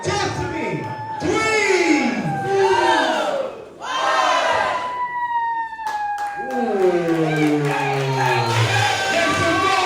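Crowd at a dance battle in NYC roaring with rising and falling shouts and whoops in repeated waves, a host's voice briefly counting in the middle.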